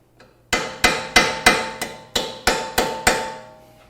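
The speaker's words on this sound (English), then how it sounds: "Pretty sure a rubber hammer will not do the trick." Nine evenly spaced rubber hammer blows ring out against metal while removing a GM 3.6L engine, each with a short ringing decay, close and loud.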